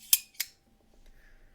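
A mechanical knife deploys with two sharp, close metallic clicks in quick succession, followed by faint light rattling.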